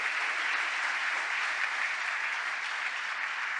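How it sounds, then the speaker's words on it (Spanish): A church congregation claps loudly for the Lord, a steady, even wash of many hands applauding without pause from start to finish. "Dele un aplauso fuerte al Señor."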